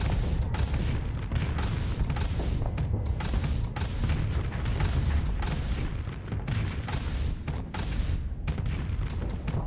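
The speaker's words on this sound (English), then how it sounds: "the constant missile spam is pretty annoying" Missile explosions in the space combat game Starsector pound in a steady barrage of heavy booms, each hit landing about every half second, loud and close with a rumbling tail.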